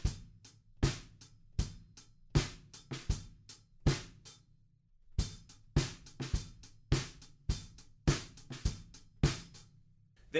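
A drum kit plays a song's verse groove in a steady rhythm, with sharp snare and cymbal hits and faint, subtle snare ghost notes between them, clear and close with no voices.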